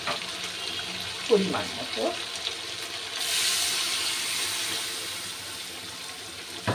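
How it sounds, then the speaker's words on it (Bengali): Water is poured into a cooking pot of chicken curry, a steady rushing splash that runs for several seconds after someone speaks briefly over faint kitchen clatter. "আমি এখন এখানে পানি অ্যাড করছি"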